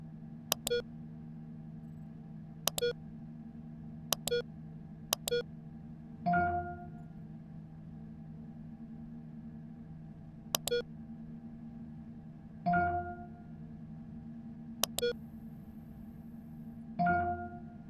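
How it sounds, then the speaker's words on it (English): Spaceship proximity alarm in the video game Ostranauts: short, sharp electronic beeps at irregular intervals alternating with softer, lower bleeps, over a steady low ship hum, with no voices. "Once you are within 5 kilometers, the proximity alarm will sound."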